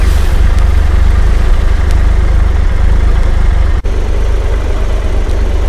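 Triumph engine idles steadily and loudly up close, a constant low rumble with the cooling fan whirring along, and a single brief knock partway through.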